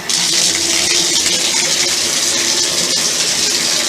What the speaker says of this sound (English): I'll turn on the water.